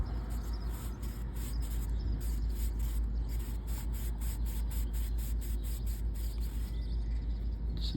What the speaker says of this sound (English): Let's do a little buff under there with some Scotch-Brite.